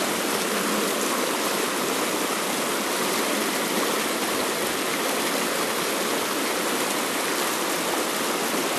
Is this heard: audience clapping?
no